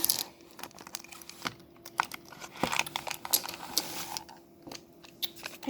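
Thin plastic packaging holding small fidget toys crinkles and crackles in close, irregular bursts with scattered sharp ticks, handled steadily throughout without talk.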